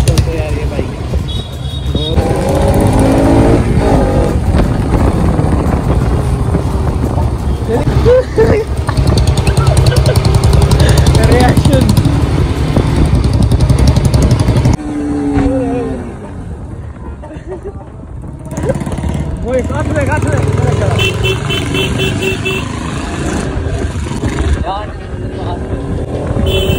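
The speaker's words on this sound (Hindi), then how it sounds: "बड़ा लाउड है यार ये बाइक।" A Bajaj Pulsar RS 200 motorcycle roars loudly while riding, with strong wind buffeting the microphone, engine drone rising and easing as people talk over it, and a quieter stretch partway through.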